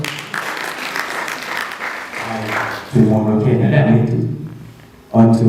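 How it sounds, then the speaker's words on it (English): A debate audience claps for a few seconds, a moderate scattered patter that fades as a voice begins speaking, with speech continuing near the end. "Let us give him a round of applause."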